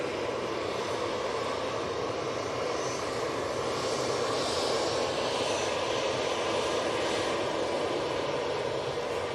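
An EasyJet airliner passes at Manchester Airport with a continuous, full-bodied engine roar that holds steady and moderately loud throughout, with no talking.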